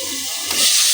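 Water poured into curry in a hot cooking pot gives a sharp, close steaming hiss that swells and sizzles in the second half of a very short moment.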